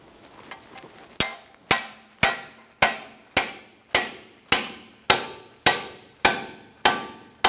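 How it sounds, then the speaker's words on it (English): Steady, ringing hammer blows on a pickle fork separating a ball joint on a 2003-2007 Honda Accord front knuckle, about a dozen evenly spaced strikes, loud and close, each with a short metallic decay. "We'll use a hammer and pickle fork to separate the joint."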